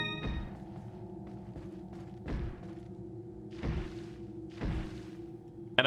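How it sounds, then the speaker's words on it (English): Heavy thuds and smashing bangs behind a door in Resident Evil 4, several separate muffled impacts spaced irregularly over a quiet background, moderately loud and close. "Just the smashing and banging."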